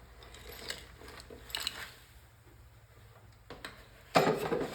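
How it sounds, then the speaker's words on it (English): Small metal arcade machine parts and tiny washers poured into a strainer, scattered clinks and rattles building to a loud jangling rush of metal at the end, heard close without talk. "So we'll just take them and pour them into our strainer here."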